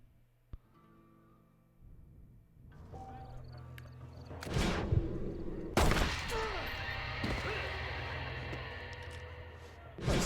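Gunfire in a Western shootout in Red Dead Redemption, with a single sharp report early, then loud blasts around the middle and a dense burst later, over game noise and scattered voices.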